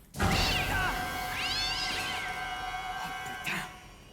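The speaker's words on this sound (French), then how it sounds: "Un chat qui sort du frigo, c'est normal" A cat meows repeatedly, close and fairly loud, with three drawn-out calls spread across a quiet indoor room, the last one shorter and sharper.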